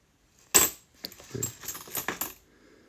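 A coin from a collection drops with a sharp metallic clink, followed by a run of lighter clicks and rattles as coins are handled up close.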